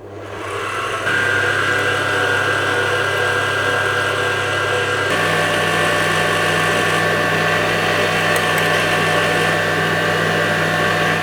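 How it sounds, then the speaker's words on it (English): Egg whites are whisked into stiff meringue for a chocolate yule log with an electric mixer, giving a loud, steady motor whine that steps to a different pitch midway and runs without pause. "So I'm done whisking my egg whites now, and they are super stiff."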